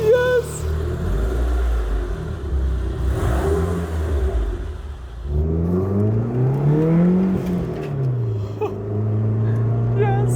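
A Mitsubishi Eclipse GSX with a turbo engine and bolt-on upgrades revs while driving, its tone rising and falling with the throttle. A loud cabin drone carries it, and a voice speaks over the engine.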